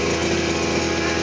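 A grass cutter's small two-stroke engine runs steadily at high revs, a close, loud, continuous drone with a constant tone, used for clearing plants around calamansi trees.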